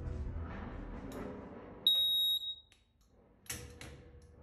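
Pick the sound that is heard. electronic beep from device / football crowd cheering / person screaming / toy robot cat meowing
electronic beep from device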